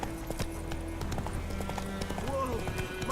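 Geralt's horse Roach gallops in Witcher 3, a steady clip-clop of hooves running at close range beneath background game sound, with a voice talking over it.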